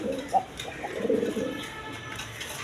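Large U-shaped pigeons coo in low, rumbling phrases, a few soft calls close by over a steady background hum, with no talk.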